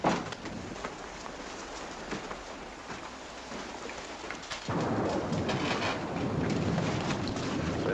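Steady heavy rain pouring down with rumbling thunder, loud and continuous, the downpour swelling stronger partway through, with no voices.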